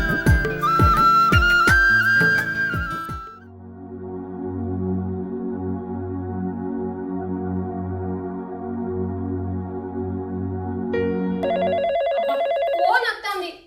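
A telephone rings in a Telugu village drama scene, a loud electronic trill near the start and again near the end, separated by a long stretch of steady background music.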